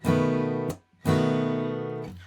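Two sustained guitar strums of the same chord, each ringing out for about a second with a short gap between, clear and close.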